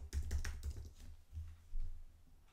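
Someone types a social media handle on a computer keyboard, a quick run of close, soft key clicks followed by a few scattered taps.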